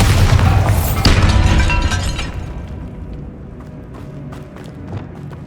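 A Bombarda spell explosion in the video game Hogwarts Legacy, fired inside a goblin mine: a loud, heavy boom with crackling debris, then a long fading rumble and scattered falling rubble clatters.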